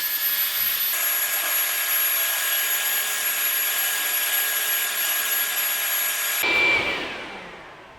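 A Sainsmart disc sander rounds the edge of a wooden test piece, a loud continuous motor whine with gritty abrasive rubbing that runs for several seconds, then cuts off and fades as the machine winds down.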